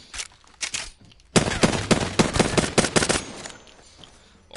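Apex Legends R99 submachine gun firing bursts in a video game: a few short, sharp rattles first, then after a pause a long run of rapid bursts, loud and close, with no talking.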